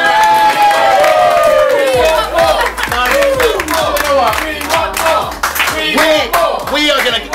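A concert crowd cheers, yells and applauds loudly and continuously, with dense clapping and shouting voices filling the space throughout.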